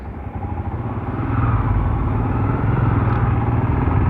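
A Royal Enfield Himalayan motorcycle engine drones steadily while riding out on the road, a continuous close rumble that swells slightly in loudness after the first second and holds there.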